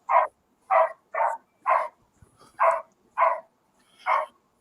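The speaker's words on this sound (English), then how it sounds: "My dog came in. Can y'all hear him? Hear her?" A dog indoors gives seven sharp, evenly spaced barks, close and clear against a quiet room, with faint rustling between them.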